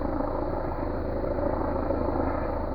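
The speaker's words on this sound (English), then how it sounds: "It's still shining on my tent, this helicopter." A helicopter hovers overhead at night, shining its searchlight down on a tent; its steady, loud rotor and engine rumble fills the whole stretch without a break.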